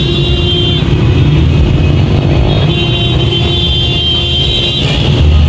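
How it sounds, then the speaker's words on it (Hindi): Loud, continuous heavy road traffic on a Pakistani street on the night of 14 August, with cars and motorcycles droning and revving past close by in a dense, unbroken roar. "क्या करें, अल्लाह इतनी गाड़ी आ गई है ना"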